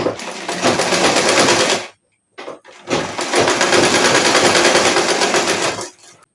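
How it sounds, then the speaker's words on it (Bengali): A sewing machine stitching pajama fabric runs in two loud, fast whirring bursts of rapid needle chatter, separated by a short silent pause with a couple of clicks, close by. "এই সাইডটাও আমি এভাবে সেলাই দিয়ে নেব।"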